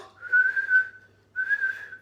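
Someone whistles two sustained notes close by, separated by a short pause, clear and fairly quiet.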